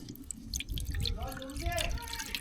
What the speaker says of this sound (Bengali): প্রথমে হাফ কাপ দুধ দিয়ে দিলাম